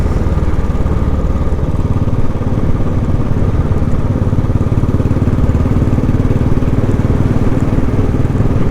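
Royal Enfield Classic 500 single-cylinder motorcycle engine on a ride, a loud, steady close-up thumping drone that holds constant throughout with no breaks.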